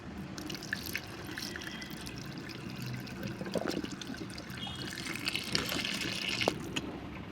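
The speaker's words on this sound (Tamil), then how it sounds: "அப்புறம் தண்ணி டாப் அப் பண்ணிக்கலாம் வாங்க." Water poured to top up the reservoir of a Skoda Octavia during a service, a steady close trickling and splashing flow with small drips, continuous throughout.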